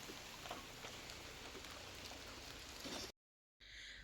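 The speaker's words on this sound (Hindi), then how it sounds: "अभी तो काफ़ी तेज आ गई है बारिश।" Heavy rain falls in the mountains of Uttarakhand as a steady, fairly faint patter and hiss, broken by a brief gap of silence near the end before resuming.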